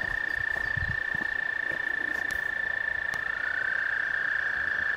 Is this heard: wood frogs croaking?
yes